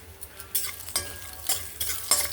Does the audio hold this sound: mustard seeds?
yes